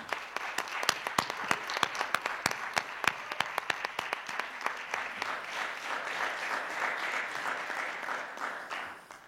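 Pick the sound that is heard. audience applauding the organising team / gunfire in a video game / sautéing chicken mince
audience applauding the organising team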